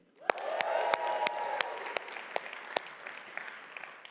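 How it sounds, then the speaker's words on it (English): A church congregation cheers and claps together, a brief burst of whoops and crowd voices over scattered distinct hand claps that tapers off within a few seconds. "Can we just give a big cheer for everyone online?"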